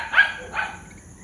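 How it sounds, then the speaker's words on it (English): Two quick dog barks, moderately distant, about half a second apart, followed by quiet background. "the dogs are barking for minutes."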